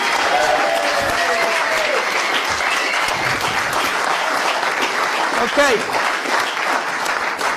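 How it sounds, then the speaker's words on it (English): A large audience gives a big round of applause during a live stage show, steady and loud throughout, with a brief spoken word near the end over the clapping. "everyone's going to give you a huge round of applause."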